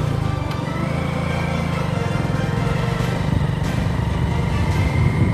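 A motorcycle engine drones steadily up close while riding a rural road past banana plantations, with wind rush and a constant low throb throughout.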